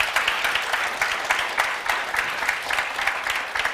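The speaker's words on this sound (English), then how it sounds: "give them a round of applause again for their wise words and perspective" A conference audience applauds panelists at a Nordic tourism event, a close, lively patter of clapping with rhythmic bursts from individual hands, continuous throughout.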